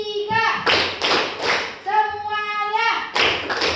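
Schoolchildren in a classroom clap in short rhythmic bursts, sharp and close, alternating with a teacher and children speaking and chanting.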